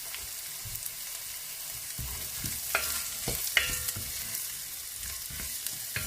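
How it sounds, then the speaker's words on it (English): Celery and carrots sizzle gently in a soup pot, a steady soft frying hiss close by, with occasional stirring scrapes and clinks of a utensil. "I'll add my celery and carrots first. Let those cook, soften up a little bit."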